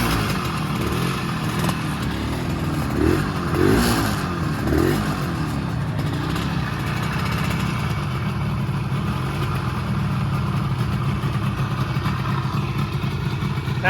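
A 1974 Suzuki GT185 motorcycle idles with a clattery mechanical note, then gets a few short throttle blips that rise and fall before it settles back to a steady idle, close up and without talk.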